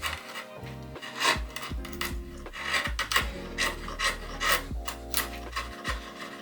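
A wide chisel pares timber on a potting-bench build, giving repeated close rasping, scraping strokes in an uneven rhythm with small knocks between them and no talk.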